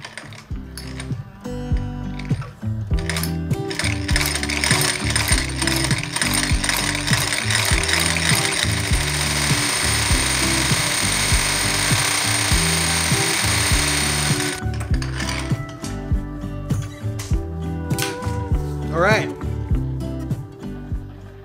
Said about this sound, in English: Okay, so I'll head over to the union and I will sew these together.